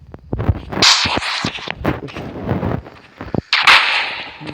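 Sniper rifle shots in a zombie survival video game: several sharp, loud cracks spaced unevenly, each with a short booming tail and some clatter between them.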